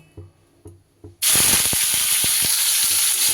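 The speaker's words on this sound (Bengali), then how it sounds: "এইবার এই তেলের মধ্যেই আমি দিয়ে দেব ব্রোকলিগুলো" A few soft taps, then a sudden loud hiss as vegetables hit hot oil, continuing as a steady crackling sizzle.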